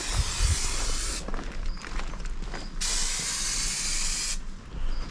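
A sprayer hisses in loud, steady bursts during an RV solar panel install on a Grand Design Solitude roof, two long sprays separated by a quieter gap, close and with no talking.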